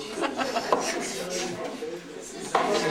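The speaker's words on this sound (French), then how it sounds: "je fais la vaisselle" Dishes, pots and cutlery being washed at a Mont Blanc mountain refuge: occasional clinks and clatters, with two sharper knocks, under steady talking.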